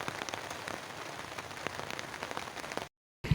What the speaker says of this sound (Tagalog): sobrang lakas pa rin ang ulan dito habang tumatagal, lumalakas siya